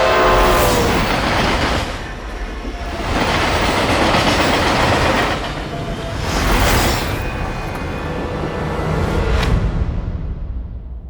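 A train running steadily on rails, with a continuous loud rumble and rhythmic clickety-clack of wheels that swells and eases over about eleven seconds.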